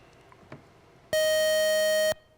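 A quiz show buzzer gives one loud, flat electronic tone lasting about a second, set against a quiet room with faint small noises beforehand.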